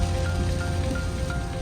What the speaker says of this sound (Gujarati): બહુ ખરાબ વરસાદ પડતો છે ભાઈ ફૂલ વરસાદ